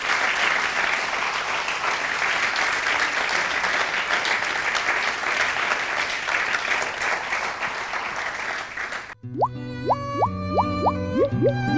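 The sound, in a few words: strong applause for the speakers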